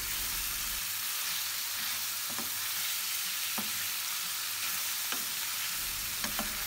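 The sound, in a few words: beef liver frying and being stirred in a pan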